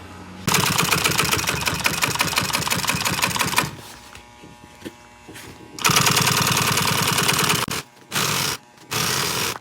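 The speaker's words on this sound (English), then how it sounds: "now we can sew this side piece on" Industrial sewing machine stitching pontoon boat seat upholstery, loud rapid needle hammering in long bursts that stop and restart several times, with short pauses and shuffling of material between runs, no speech.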